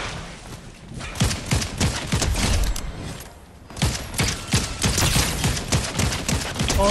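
Rapid bursts of gunfire from a Fortnite match crackle in dense, repeated volleys, pausing briefly before resuming loud and close, with no talking over them.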